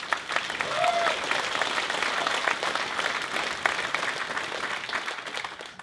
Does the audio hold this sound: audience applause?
yes